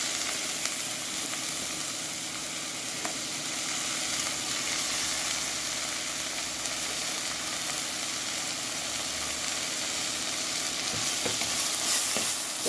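Dried prawns sautéing in a pan hiss with a loud, continuous sizzle, stirred steadily with faint scraping throughout and no speech.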